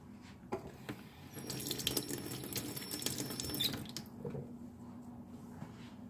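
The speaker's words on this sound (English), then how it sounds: "I just rinse my thyme off, and I'm trying to get the leaf" Fresh thyme is rinsed under a running kitchen tap, a steady splashing stream over a few seconds with water squishing through the leaves, followed by quieter drips after the tap stops.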